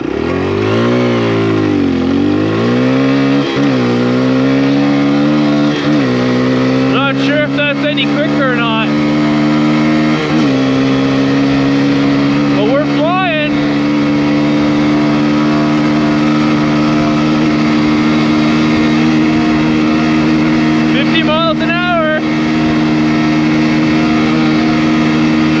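A Kawasaki KLX140RF dirt bike pulling away in second gear from a standstill, its single-cylinder engine droning loudly and rising steadily in pitch over a long run, with brief talk in between.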